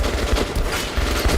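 Gunfire in a Metro video game during a fight with a heavy tank, a steady low rumbling barrage of shots running through the whole short stretch, loud and continuous with no talk.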